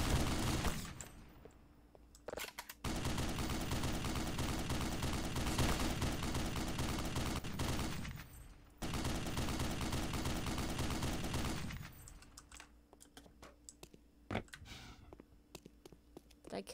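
Enemy gunfire in the Black Mesa video game: long sustained bursts of rapid automatic shots, loud and dense, broken by brief pauses and ending in scattered single shots.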